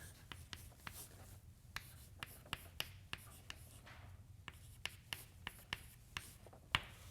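A pen or chalk writes equations by hand in a quiet room, sharp tapping strokes and scratches recurring irregularly and close by, with no talk.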